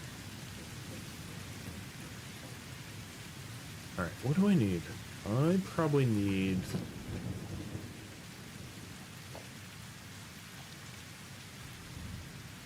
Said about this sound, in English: I'm just working in the rain.